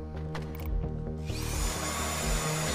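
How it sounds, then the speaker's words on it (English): In-game drilling in GTA 5, a power drill's steady tonal whine with rattling, grinding texture that rises sharply in intensity partway through, fairly quiet and alone. "So see guys, I'm drilling some more."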